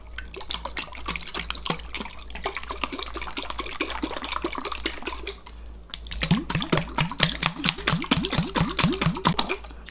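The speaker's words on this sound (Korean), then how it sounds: "좌우로 흔들어 줍니다." A closed jar of angelica root oil shaken side to side gives a fast rhythmic sloshing and knocking, close and continuous, growing livelier in the second half.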